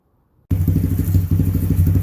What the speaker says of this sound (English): you can see here we have the bike running